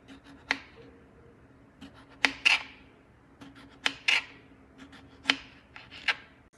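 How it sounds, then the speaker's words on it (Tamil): A knife cuts potatoes into round slices on a board, giving about half a dozen crisp, separate chops spaced irregularly, close up and quiet, with no talking. "இப்படி ரவுண்ட் ரவுண்டாக கட் பண்ணிக்குவோம்."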